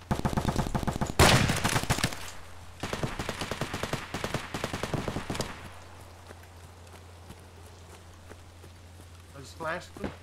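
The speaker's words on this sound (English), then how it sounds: "I'm just letting off shots all the way back here." Rapid bursts of gunfire in the shooter game Escape From Tarkov, dense and loud at first, then thinning into sparse scattered shots with a steady low hum underneath.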